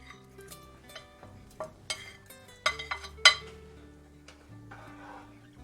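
Sausage going into a pot of bacon and bean soup, with scattered metallic clinks and scrapes of a utensil against the pot, quiet between sharper knocks and a cluster of louder clanks near the middle.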